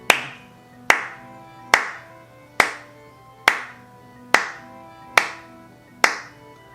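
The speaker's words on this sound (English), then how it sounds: "If I clap my hands," One person claps their hands eight times at an even, metronome-like pulse, each sharp clap close and clean with a short ring-off before the next during a piano lesson.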